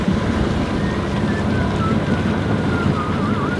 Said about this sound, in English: Excellent wind, because it's quite flat, but it's a good stiff breeze.